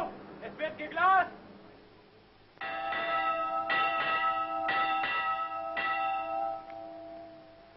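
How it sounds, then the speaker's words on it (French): A ship's watch bell rings out in a series of clear, resonant strikes that hang and overlap, loud and close, following a brief stretch of talk. "La cloche de quart, c'est un peu le majordome, c'est elle qui règle la vie intérieure du navire."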